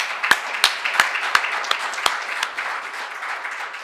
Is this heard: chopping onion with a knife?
no